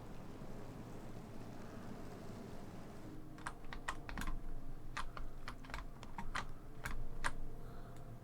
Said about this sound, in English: All keyboard driven, by the way. You can probably hear my tapping in the background.